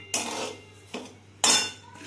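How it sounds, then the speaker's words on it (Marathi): A spoon scrapes and clatters against a pan over a high gas flame in three distinct stirring strokes, close and crisp, with quiet gaps between them and no talking. "आता हे थोडं हलवूया, अगदी 2 ते 3 मिनिटच मोठ्या गॅसवरती थोडंसं हलवून घ्यायचं"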